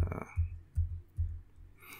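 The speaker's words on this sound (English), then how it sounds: "So let me type that in, netstat dash NAT." Keystrokes on a computer keyboard as a netstat command is typed on Linux: three soft, low thumps spaced about evenly apart, fairly quiet and close, with no voice.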